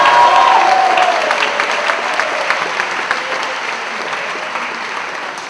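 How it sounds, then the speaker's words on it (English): An auditorium audience claps loudly and steadily for eighth-grade speech contest finalists, the applause gradually tapering off near the end. "Let's give them a round of applause."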